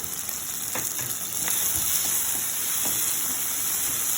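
Vegetables and spices, including oregano and Italian seasoning, being mixed in a frying pan, giving a steady sizzle with soft scraping stirs scattered throughout, close and continuous with no talking.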